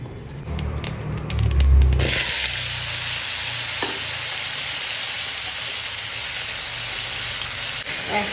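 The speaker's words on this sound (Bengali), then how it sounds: "সর্ষে ফোড়ন দিয়ে, সর্ষেটাকে ফোড়ন দিয়ে আমি এখন করব এটা" Mustard seeds sputter and sizzle in hot oil for a raw mango jelly. A burst of louder crackle and a low thump come early, then a steady, close hiss of frying runs alone to the end.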